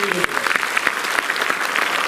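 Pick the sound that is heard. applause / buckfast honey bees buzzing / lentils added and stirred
applause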